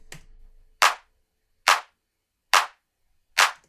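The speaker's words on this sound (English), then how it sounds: "Next, I added a clap, which I panned slightly to the left because I'm going to layer another clap over that" Four evenly spaced, crisp clap hits from a layered, stereo-panned clap sample in a progressive house track, each a sharp snappy burst with a short tail, heard alone after a faint low rumble at the start.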